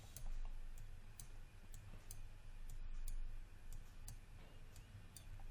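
A computer mouse clicks sharply again and again while someone models in Maya, each tick crisp and close, spaced irregularly over a low background hum.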